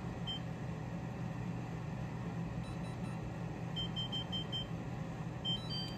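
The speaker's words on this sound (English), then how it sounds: "And then I'm going to set my timer." A kitchen timer gives a series of short, quiet electronic beeps during pumpkin pie baking, heard faintly over a steady background hum of an oven or room noise.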